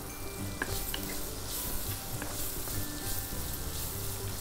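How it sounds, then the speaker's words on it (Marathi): Onion sautéing in a pan for a mixed vegetable sabzi gives a steady soft sizzle with occasional stirring clicks and scrapes, close and fairly quiet, with no voices. "थोडासा कांदा परतलं की आपण घालूया टोमॅटो"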